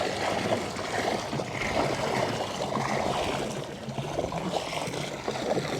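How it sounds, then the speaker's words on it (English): Poolmate Alkalinity Increaser poured gently along the edge of a saltwater pool: a steady watery trickle and splash, continuous and moderately close, with no voices. "This is from Poolmate Alkalinity Increaser. All right, just gonna gently dump it in along the side here."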